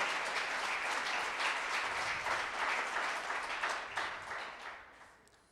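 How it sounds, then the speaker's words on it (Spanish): Church congregation applauding together, a loud dense wash of clapping that holds steady for several seconds and then fades out. "Dale ese fuerte aplauso a nuestro Dios."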